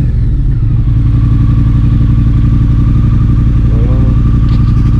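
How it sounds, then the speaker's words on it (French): A Triumph Speed Twin motorcycle engine runs loud and close with a steady throbbing idle and a slight rise toward the end, with no clear sharp throttle blip standing out. "Un bon coup d'accélérateur."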